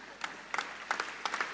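Short bursts of clapping from a conference hall audience at the Labour Party Conference in Liverpool, a few quick rounds of applause close together, moderately faint.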